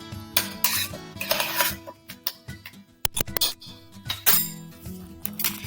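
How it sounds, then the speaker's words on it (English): Metal spoon stirring beef tips in a bowl for crockpot beef tips, giving repeated close clinks and scrapes in irregular bursts, with no talking. "I'm just going to take my spoon and just stir it to make sure it's all coated well"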